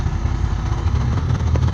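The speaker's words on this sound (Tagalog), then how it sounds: "Maglisod ang motor" A motorcycle engine strains on a rough road as a continuous, loud, rumbling drone with steady low-pitched churning and no pauses.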